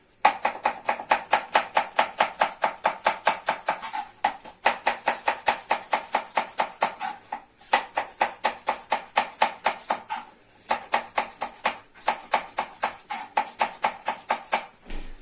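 A knife chops green onions on a board in fast, steady strokes, close and crisp, with a few brief pauses between runs of cuts.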